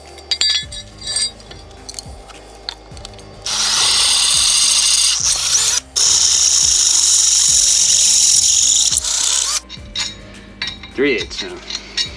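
A power drill whines loudly through a metal winch mounting bracket in two long bursts, widening its mounting holes, with light metallic clinks and taps before and after.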